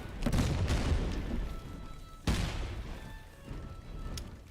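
Musket volleys fire in the battle game Master of Command during a British campaign, two heavy, booming blasts about two seconds apart, each trailing into a rumbling decay, with a smaller pop near the end.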